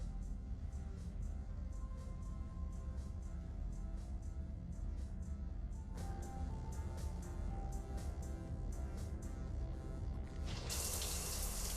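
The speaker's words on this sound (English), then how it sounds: "I figured you'd be more interested in a shower" Shower water running steadily in the Mass Effect 3 video game, a dense, continuous hiss of spray with faint regular ticks layered over it, growing suddenly louder and brighter near the end, with no voices.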